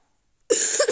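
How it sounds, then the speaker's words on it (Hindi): A single short, harsh cough bursts out suddenly after a moment of silence, close by. "मेरे भाई को खांसी है"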